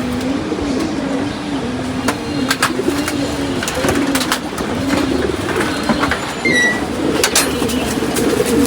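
Pet pigeons coo at home in a steady, repeating rolling rhythm close to the microphone, with a few sharper chirps and clicks scattered over the continuous cooing.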